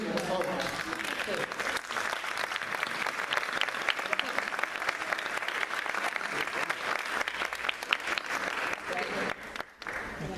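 Audience applause at a seminar, dense steady clapping from a crowd that fills the whole stretch at even strength and tapers slightly at the very end.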